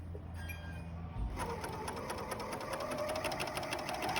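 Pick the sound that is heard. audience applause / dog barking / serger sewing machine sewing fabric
serger sewing machine sewing fabric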